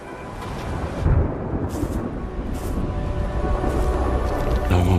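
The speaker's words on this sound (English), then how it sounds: "Distant cracks of thunder." Distant thunder in the ARC Raiders video game, a low, heavy rumble rolling continuously with a few deeper swells, loud and sustained with no voices.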